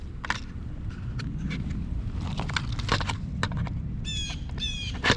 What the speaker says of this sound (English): We got a lot of birds here.